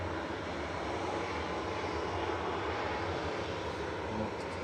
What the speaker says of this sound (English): One TUI departing, another TUI about to come in, 787-9 Dreamliner.